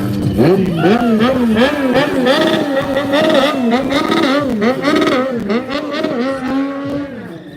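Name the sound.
car tires spinning and burning out at a stampede event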